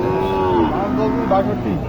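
A Nepali–Sahiwal cross cow moos loudly and close by at a rural cattle market in Naogaon, Bangladesh, a single drawn-out low call lasting almost two seconds.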